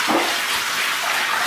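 Water pours steadily into a tiled shower pan being flood-tested with Kerdi waterproofing during a bathroom remodel, a continuous close rushing splash with no talk.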